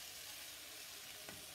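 Chicken, tomato and carrots fry in a pan for a curry, giving a soft, steady sizzle with a faint stir or clink near the end, quiet and without talk.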